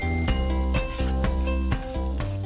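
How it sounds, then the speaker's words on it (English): Chopped white onions sizzle and fry in a pan just used to seal beef, a steady close crackle with periodic stirring bursts and soft utensil scrapes throughout. "reusing the same pan for my chopped white onions"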